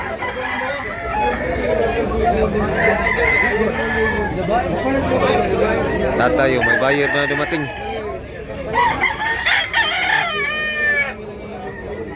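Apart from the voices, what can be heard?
roosters crowing at a chicken market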